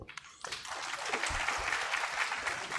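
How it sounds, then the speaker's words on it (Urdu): Young attendees at a Sindh digital media conference break into loud applause after a moment of quiet. The clapping builds and then holds steady. "یہ نوجوان اس کے اوپر بہت زور سے تالیاں بجا رہے ہیں"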